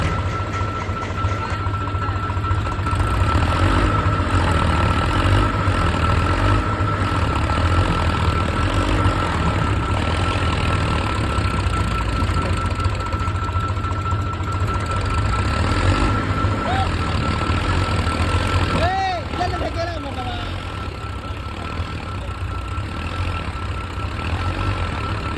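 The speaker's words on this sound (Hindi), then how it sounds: "देखो कैसे निकल रहा है ट्रैक्टर यहाँ से।" A tractor engine runs steadily as the vehicle drives out of a tight spot, with a loud, continuous low rumble and knocking throb throughout.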